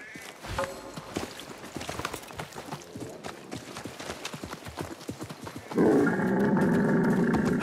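Horse hooves clip-clop in a rapid, steady gallop in the Assassin's Creed Mirage video game, loud and close, before a broad roaring wash of sound swells in and takes over the final seconds.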